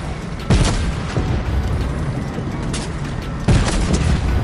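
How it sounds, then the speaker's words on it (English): Loud Fortnite gunfire and booming blasts crash over a dense, rumbling game soundscape, with two sharp heavy hits standing out among continuous noisy action. "Oh, buddy, you're shooting at me, eh?"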